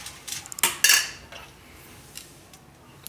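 A utensil clinks and scrapes against a bowl while boiled, peeled sweet potato is mashed and mixed for paratha dough, sharp close metallic knocks early on that give way to soft, quieter stirring.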